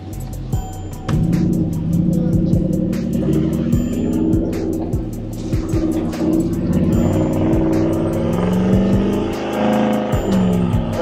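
A Ford F150 pickup with nitrous and turbo revs and rumbles continuously while driving on gravel in two-wheel drive, with rising and falling throttle and steady ticking noise over it.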